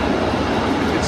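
A tram rumbles past in busy city traffic, a loud, steady, close rolling roar that fills the short moment.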